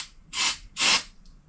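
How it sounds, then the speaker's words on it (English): Two short bursts of Sprayway spray adhesive hissing from an aerosol can onto a 1971 Chevelle kick panel, close and sharp with a brief pause between them and a faint third puff. "just put a little bit of glue on there, shake this thing up, and then spray it"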